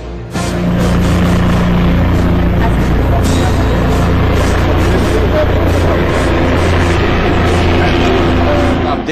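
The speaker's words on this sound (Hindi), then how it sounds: "आप देख सकते हैं कि वो है हेलीकॉप्टर जो तमाम वो दिल्ली दर्शन कराएगा" A helicopter used for short Delhi sightseeing flights roars close and loud, a dense continuous rotor and engine drone with rhythmic thumping that stays steady for the whole stretch.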